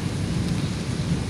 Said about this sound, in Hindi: अभी बादल गरज रहे हैं